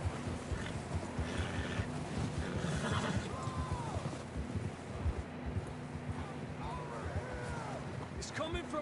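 A horse whinnies in Red Dead Redemption 2 over steady wind and outdoor rustle, with soft hoof clops and voices in the background.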